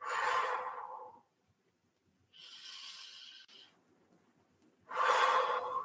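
Slow, deep breaths for a calming children's breathing exercise: a loud, airy inhale, a pause, a softer exhale, another quiet stretch, then a second strong inhale, all close and with no talking.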